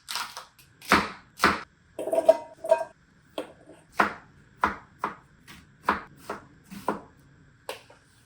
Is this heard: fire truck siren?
no